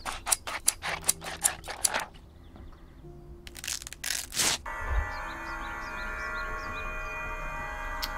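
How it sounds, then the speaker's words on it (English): Sharp snipping bursts from scissors cutting in Maze: Subject 360, a rapid cluster of crisp clicks and crunches early on, then a steady synthetic ambient hum with faint chiming tones. "Scissors, do the trick."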